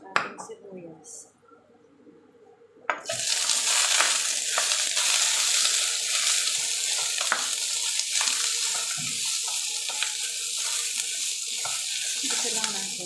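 Beef and onion hit a hot pan for beef curry, a quiet start giving way to a loud, steady sizzle that holds to the end, with some talk faintly underneath.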